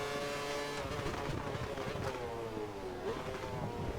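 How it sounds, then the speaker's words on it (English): An F1 race car in the F1 2013 video game clonking over curbs, a droning engine note rising and falling with rough thumps, steady and fairly close, with no talk. "That's clonking over the curbs"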